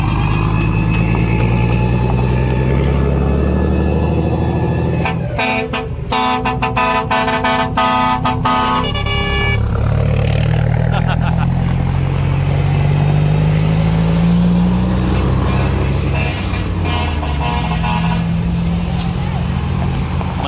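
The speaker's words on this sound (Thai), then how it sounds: "นีรถพ่วงครับ" A trailer truck at a gathering of decorated trucks in Nong Bua Lamphu rumbles with a heavy low engine while its horn blares in a long loud burst of toots, then fainter honks follow amid voices and crowd noise.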